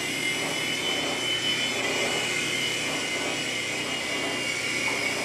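A small LiteHawk II RC helicopter flies nearby, its electric motor and rotor giving a continuous high, even whine with a faint airy hum, steady in level throughout and with no talking.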